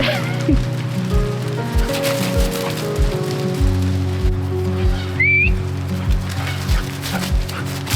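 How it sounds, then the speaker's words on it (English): Steady rain patters on a surface close by, with a rhythmic thumping and a brief rising squeak partway through. "Today it is rainy and windy"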